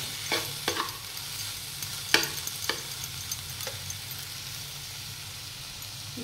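A spoon stirs cabbage curry being reheated in a pan. Intermittent scraping strokes sit over a faint, steady sizzle, and a few sharper clacks stand out early on.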